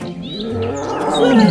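A fierce tiger roars once, a loud, close, rising growl that lasts a little over a second and a half with no talk over it.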